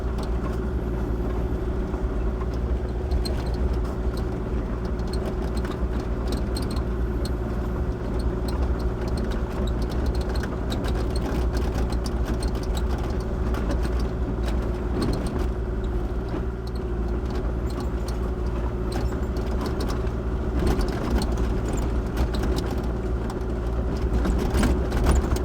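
A Kubota KX040-4 excavator's diesel engine drones loud and steady from start to finish while cleaning a roadside ditch, with no pauses or changes in pitch.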